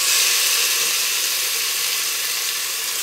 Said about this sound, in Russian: Итак, мультиварка сообщила, что она уже нагрелась. Опускаем туда мясо.